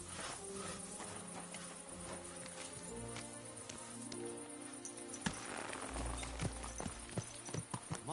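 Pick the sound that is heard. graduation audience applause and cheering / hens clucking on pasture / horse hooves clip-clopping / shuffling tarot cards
horse hooves clip-clopping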